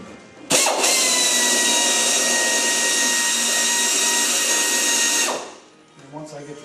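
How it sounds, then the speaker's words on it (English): A power drill runs continuously for about five seconds, boring a centered hole through material, loud and steady with a sharp start and a tapering stop. "when I'm drilling this, I'm moving my drill bit all around"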